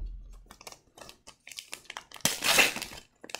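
A foil pack of football trading cards being torn open, with crisp crinkling and rustling in short bursts and a louder tearing crackle near the end, no talk.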